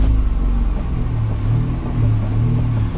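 A damaged VW Golf drives along with a steady, loud low engine rumble and road noise, the engine swelling slightly as it pulls.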